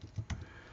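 Keystrokes on a computer keyboard while writing a print statement in a Python setup, a few soft close clicks in a short burst, quiet and alone.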